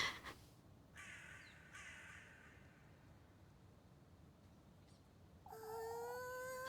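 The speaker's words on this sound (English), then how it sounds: "There's so many crows." Crows cawing in the game Little Goody Two Shoes, a few harsh calls at a distance over a quiet ambient hum, with a sustained tone entering near the end.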